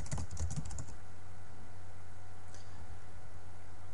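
Java code being typed on a computer keyboard: a short quick burst of close key clicks at the start, then a single faint tap over a steady low hum.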